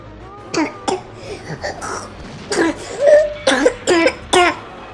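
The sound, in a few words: coughing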